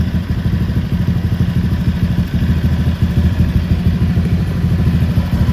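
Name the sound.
Honda Vario motorcycle engine running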